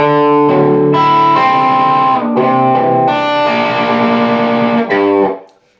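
An electric guitar picks through the chords, notes ringing with a distorted, effected tone before the last chord fades out.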